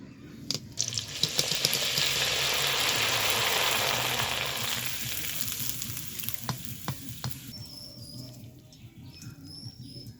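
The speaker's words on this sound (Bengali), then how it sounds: "এবার গরম তেলে ছাকনাটা ডুবিয়ে দিব" A strainer of raw rice rubbed with salt water is dipped into hot oil, bursting into a loud fizzing sizzle that swells over a few seconds, then settles into quieter crackles and scattered pops.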